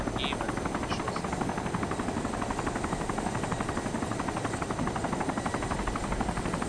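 Helicopter flying in the video game DayZ, a steady dense rotor drone with rhythmic chopping that holds at constant loudness throughout, close and continuous with no talk over it.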